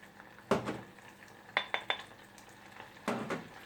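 Flour is stirred into melted butter in a saucepan, the spoon giving three sharp scraping clinks against the metal, separated by quiet pauses, close and clear.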